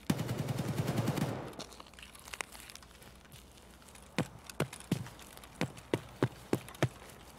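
A rapid automatic burst from a gun in Escape from Tarkov on the Reserve map, then a series of sharp single shots spaced at a steady rhythm, fairly close and loud.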